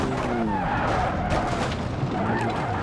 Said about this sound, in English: I managed to prevent a major disaster with my drift